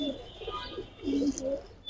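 Pigeons coo in soft, low, rolling phrases close by at a loft among birds for sale, with two or three throaty swells and faint chirps behind.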